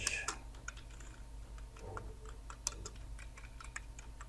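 Someone types text into a word-processing document on a computer keyboard. Quick, irregular key clicks sound close but fairly quiet, with short pauses between bursts.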